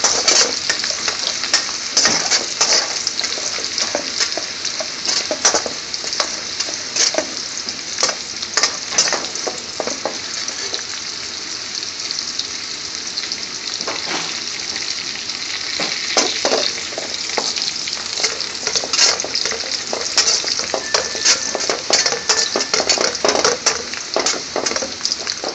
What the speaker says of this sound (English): Chopped garlic. Stirring nice and gently.